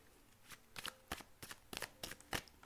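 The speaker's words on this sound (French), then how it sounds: "Je vais tirer toutes les cartes." Playing cards drawn and handled for a tarot-style reading, about eight quiet, crisp flicks and slides in an irregular rhythm, close and soft with no talk.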